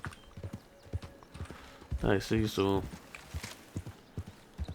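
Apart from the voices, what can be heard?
horse hooves clip-clopping in video game Red Dead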